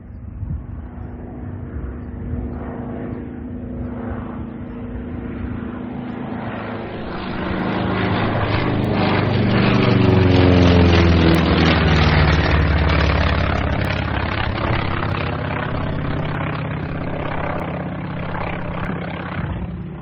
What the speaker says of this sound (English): That plane that just flew over us was one of the Green Hill Navy's fighter planes